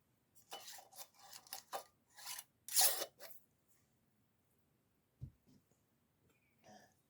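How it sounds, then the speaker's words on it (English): Metal rings being finger-tightened by hand onto glass canning jars of pot roast sloppy joes, giving a run of close, brief scraping and clinking bursts, followed by a near-silent pause and a few faint knocks. "Now, just finger tighten the rings on."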